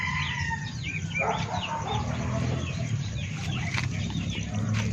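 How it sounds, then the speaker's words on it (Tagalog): Chickens and young chicks cluck and peep steadily on a farm near a water station, with a rooster crowing in the mix and a low background rumble throughout. "Malapit yung mga sisiw natin para makainom."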